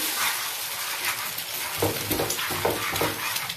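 Egg frying with chopped onion and a pinch of salt in hot oil, a steady broad sizzle throughout, joined partway by a few scraping stirs of a spatula in the pan.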